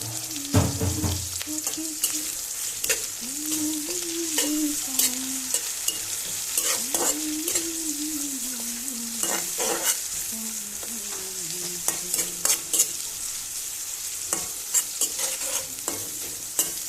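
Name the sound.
frying dried fish with onions in a pan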